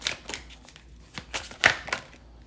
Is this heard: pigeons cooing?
no